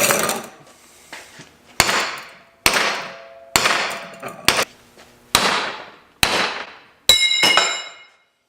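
A steering box clamped in a vise takes about eight hard hammer blows at irregular intervals, each a sharp, loud metallic clang ringing out and decaying before the next hit.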